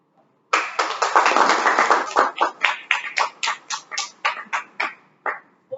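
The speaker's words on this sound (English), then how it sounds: "A huge applause for Toastmasters." Applause from a Toastmasters meeting audience after a general evaluation, a dense burst of clapping that thins into distinct, spaced claps before fading out, no talk over it.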